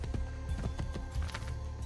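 A horse in the game Assassin's Creed Brotherhood gallops with quick, close hoofbeats and lets out a neigh, fairly quiet and alone.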